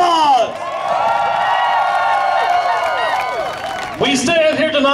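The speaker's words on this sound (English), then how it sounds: "Give yourselves a huge round of applause." At a Dallas Stonewall commemoration rally, a loud crowd cheers and whoops with drawn-out shouts, light clapping mixed in, and a fresh burst of yelling near the end.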